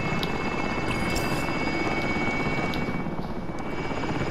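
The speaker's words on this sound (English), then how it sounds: "Oh, that's an attack chopper." Attack helicopter in Call of Duty: Modern Warfare, a steady loud rotor drone and engine roar filling the whole stretch without a break, with faint in-game clicks and tones layered on top.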